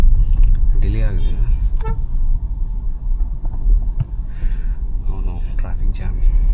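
Heavy Chennai city traffic jam heard from inside a Hyundai Exter 2025 SX Knight, with several short car horn toots and a steady road rumble under ongoing conversation.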